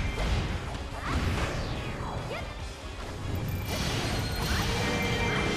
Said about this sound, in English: Man, Zelda, you're kind of smashing them